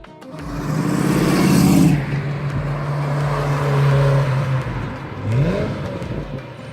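A vintage car, part of a pair where one runs a turbo, drives by at a national historic-vehicle day in Cernay, its engine loud and close, revving and whirring before easing off as it passes.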